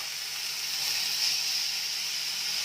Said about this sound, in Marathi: कढई गरम झाली की जी मटकीची मोडं आपण धुवून घेतलेली आहे ती